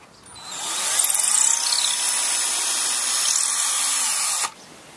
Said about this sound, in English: Option two is to drill a hole right here for the handbrake cable.